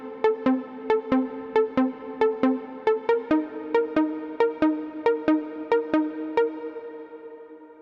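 A bright trance pluck synth plays a quick, evenly spaced melodic pattern of short decaying notes, fading out at the end.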